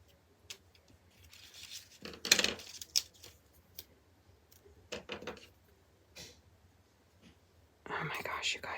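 Scissors cut apart a watercolor card with a few quiet snips and paper rustles close to the mic, alongside soft whispering and small clicks.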